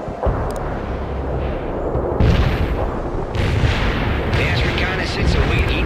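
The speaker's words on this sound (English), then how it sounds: "Cluster bomb hit for full effect." Cluster bomb explosions in the video game World in Conflict rumble as a dense, rolling barrage of booms and crackling blasts, loud and continuous, with radio chatter from game voices mixed in.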